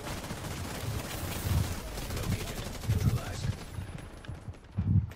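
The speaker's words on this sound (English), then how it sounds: "I'm hit by this fucking snowball gun" A snowball gun fires in a video game, a series of loud, thumping shots in uneven bursts about every half second to second, close by over a noisy background with no one talking.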